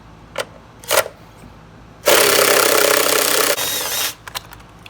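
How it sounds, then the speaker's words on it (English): A socket tool works the single battery hold-down bolt on a 2015-or-later Ford F-150, with a loud buzzing burst of about two seconds followed by a shorter, quieter run, framed by a few light clicks and taps. "we need to take our 5/16 or 8mm socket and remove the single hold down"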